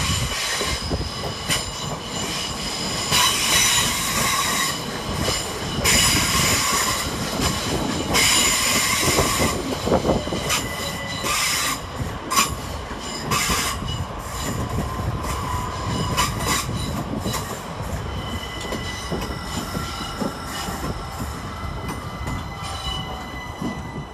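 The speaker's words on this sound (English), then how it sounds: "we see 377626 and 377603, with the 1750 Southern Railway service from Sutton to London Victoria" A pair of Southern Railway class 377 electric trains runs through Clapham Junction station, a loud, sustained roar of wheels with squealing and rhythmic clatter over the rails, close by and steady throughout.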